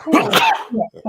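A single sharp sneeze bursts out close and loud, followed right away by a few quick spoken words.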